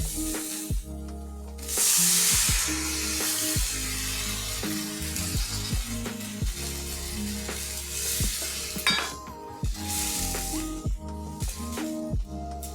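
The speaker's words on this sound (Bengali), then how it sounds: "এখন আমি তাতে দিয়ে দেব বড় বাটি 1 বাটি জল" Water poured into a hot pan of fried drumsticks sets off a loud burst of hissing sizzle, followed by steady frying and scattered utensil clinks, with another surge later.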